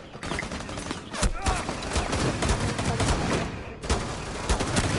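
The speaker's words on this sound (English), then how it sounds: "They're really shooting me." Rapid automatic gunfire crackles in Rainbow Six Siege, loud close bursts of shots in quick succession with brief pauses, sharp cracks over a noisy background and occasional speech.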